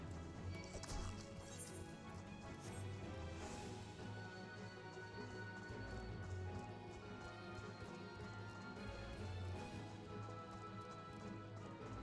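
Horse hooves clip-clop steadily through a Final Fantasy XIV game scene, a continuous rhythmic trotting pattern running under dense game music and ambience, with a few sharper impact sounds mixed in.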